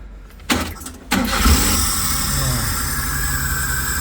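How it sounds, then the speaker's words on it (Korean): A car with a starting fault, just reset after diagnosis, is cranked and fires at once, a brief starter burst followed by a loud, close engine settling into a steady idle. "자, 이 상태에서 시동을 한번 걸어 보죠."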